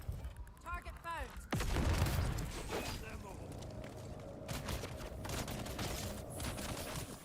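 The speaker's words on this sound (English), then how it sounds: "Throwing grenade." A grenade goes off with a sharp boom in a Dune: Awakening fight, followed by crackling debris and a sustained noisy rumble, with a short voice line heard just before.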